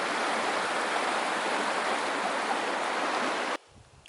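Broad steady rush of a river marking the desert's end near Kennedy Meadows on the Pacific Crest Trail, continuous and close, cutting off abruptly near the end.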